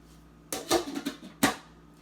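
A saucepan holding germinated brown rice and water is shaken, giving a quick sloshing rattle followed by a second short burst a moment later, close and moderately loud.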